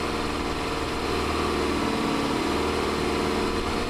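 Farm machinery engine in Farming Simulator 25 running steadily, a loud continuous mid-pitched drone with no break and no talking.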